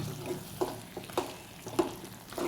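A spoon stirs avial, a Kerala vegetable curry with curd, in a pan, making soft rhythmic scraping knocks about every half second, quiet and close.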